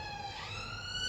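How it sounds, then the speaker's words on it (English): A police siren wails faintly from the street through an open window on a warm, muggy day, a distant wavering tone heard briefly. "sorry about the"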